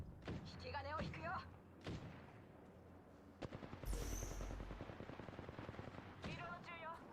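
Gunfire in the battle royale game Apex Legends: sharp shots and rapid automatic bursts mixed with game effects, under in-game character voice lines throughout.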